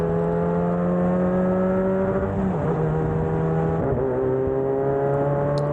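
Formula DXB Max single-seater race car on the Dubai Autodrome Club Circuit, its engine droning loud and steady, then pitch dropping sharply at two gear shifts, about two and a half and nearly four seconds in, with no talk.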